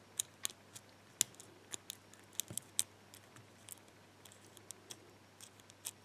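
Small metallic ticks and clicks of a padlock being picked with a tension wrench, sparse and irregular taps over a quiet hum, close and faint.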